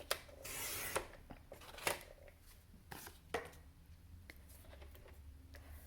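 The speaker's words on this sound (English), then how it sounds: "we're just going to cut it and cut at 4 1/4" A paper trimmer cuts a diamond card base for a paper craft kit, with a close sliding swish followed by several sharp, faint clicks and taps on a quiet table, no voices.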